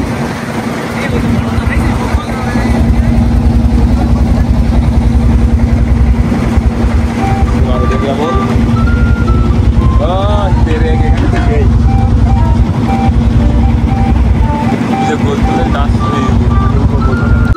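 A trawler boat's engine drones steadily on a river along the Sundarbans coast, a constant low hum that runs throughout while people talk over it.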